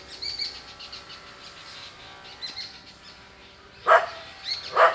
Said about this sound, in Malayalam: പക്ഷികൾ ചിലയ്ക്കുന്നു കിളികൾ